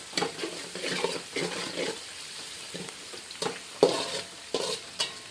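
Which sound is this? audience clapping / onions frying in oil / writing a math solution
onions frying in oil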